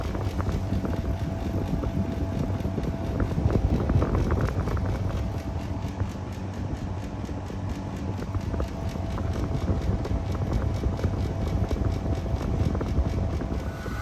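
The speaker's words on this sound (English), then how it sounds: "Now the car is off, the aircon's going." A 400 watt portable air conditioner runs inside a parked car while camping. It gives a constant low hum and airy whoosh with faint tonal whine, steady and close throughout, with occasional soft knocks.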